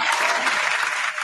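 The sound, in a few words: applause sound effect played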